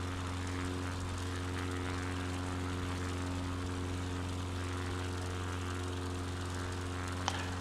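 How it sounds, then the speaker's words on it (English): Float plane propeller engine droning at a steady pitch in Microsoft Flight Simulator 2020, a continuous, even hum with no talk. "I'm glad they've got float planes. I can use these on some of my scenic city tours and land in rivers and lakes"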